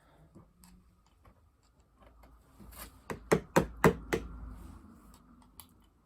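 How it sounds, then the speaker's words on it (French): Hammer tapping out an engine oil seal, several sharp metallic knocks in quick succession, following light scattered taps and a few quieter taps afterward, close up. "Un petit coup de marteau et votre joint spi"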